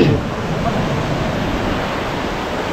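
Rough sea surging and breaking against rocks, a steady loud roar of churning surf and spray that fills the scene without pause, with gusty wind noise underneath.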